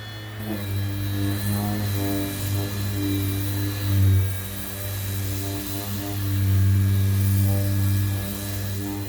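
A Dewalt cordless orbital sander with a coarse pad runs at its lowest speed setting, giving a close, steady electric hum that swells slightly in places, with no talking.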